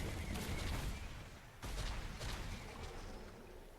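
Purger unit in the Grey Goo strategy game firing a large area-damage attack, heard as loud, dense bursts of explosive gunfire-like booms with a sharp renewed blast midway, continuous throughout.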